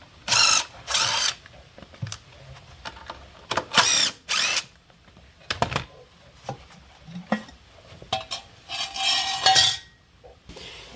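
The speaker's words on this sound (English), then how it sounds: "So these are the two bolts we're going to take the inspection cover off with. They're 1/2 inch." A power tool spins off half-inch inspection cover bolts on a Vermeer mini skid steer, coming in several loud, short whirring bursts separated by pauses with metallic clinks and handling sounds.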